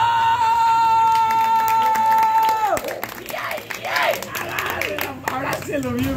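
Party crowd at a surprise clown show bursts into clapping and cheers after a held tone ends midway, with lively voices calling out over the applause.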